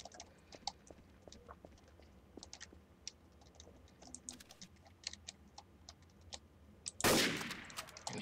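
A sniper rifle shot in Garry's Mod Trouble in Terrorist Town cracks loudly near the end, after quieter game ambience with faint clicking and ticking.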